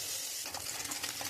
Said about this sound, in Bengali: আমি কড়াইতে তেল দিয়ে দিচ্ছি, মাছটা দিয়ে দেবো।